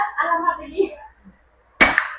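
A supersonic Immortal Flash Gen 2 air rifle fires pointed Samyang pellets, giving a single sharp, loud crack after someone briefly talks.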